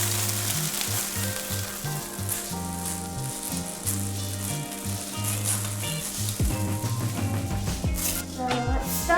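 Colorful sprinkles pour onto a hard floor in a long, dense rattling stream, like fine grains showering down, with steady background music underneath.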